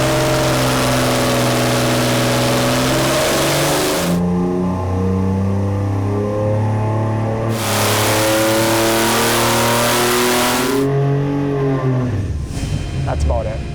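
Boosted 4.3L V6 engine on a dyno, revving hard in long sustained pulls with rising harmonic tones, easing off between runs and dropping away at the end; loud and close, with voices talking over it.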